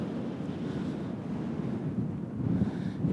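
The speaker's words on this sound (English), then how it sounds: "It's 4 degrees Celsius, so the wind is biting." Cold wind at about 4 °C under a clear, low-sun winter sky buffets the microphone outdoors as a steady, broad rumble that rises slightly near the end, with no talking.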